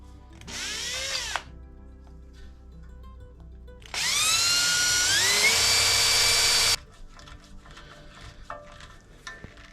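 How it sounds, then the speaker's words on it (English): A power drill whirs up in a short burst, pauses, then runs again longer and strains lower as it bites into a pilot hole, followed by quiet handling noises. "So I want to drill a little pilot hole here."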